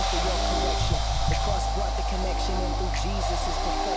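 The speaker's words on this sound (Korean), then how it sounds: "이때는 드라이기 노즐을 세로로 세워서 이제 이마에 한 번 쐬줍니다." A hair dryer fitted with a nozzle blows a steady, close whirring hum while drying and styling a man's hair, as a person talks over it throughout.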